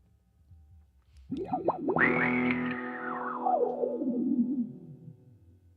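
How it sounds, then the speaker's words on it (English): Distorted, fuzzy electric guitar swells in after a quiet start, a sustained buzzing chord with effects that gradually fades out. "I just want to try a fuzz sound actually"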